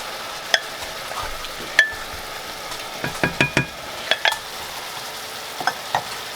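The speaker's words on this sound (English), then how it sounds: "And just mix it together till it's good and combined" Ground pork mixture being stirred in a pan, with close, scattered scraping and clacking strokes that bunch into quick clusters over a faint steady background, no talking.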